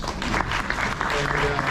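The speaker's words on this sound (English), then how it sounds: "So a round of applause for the judges." An audience applauds the judges at an education event, a steady wash of clapping, with a voice faintly audible partway through.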